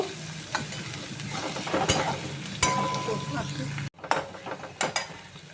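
Spices and chopped ginger fry in a pan for khichuri, with a steady sizzle and repeated scraping stirs, then a brief pause before the stirring and crackle resume close by.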